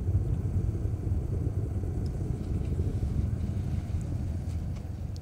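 Falcon 9 rocket's nine Merlin engines roaring during ascent on the CRS-12 launch, heard as a dense, steady low rumble with a windy texture, continuous and unbroken, with no talking over it.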